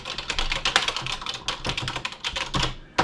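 Rapid, uneven keystrokes on a Tandy Color Computer 2 keyboard, close and clear, clattering steadily with a few louder hits and no voices.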